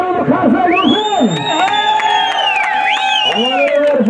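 A crowd cheers and shouts loudly and continuously at a kokpar event for a Kazakh wrestler, with whoops and raised voices blending into a dense, sustained roar.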